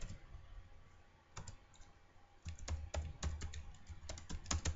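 Fingers type on a computer keyboard in short bursts of quick, close key clicks after a quiet pause, with no talking over them.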